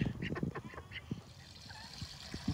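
Ducks at a backyard duck pond being fitted with a filter, giving a run of nasal quacks and honks, loudest in the first second, then scattered calls close by with no speech.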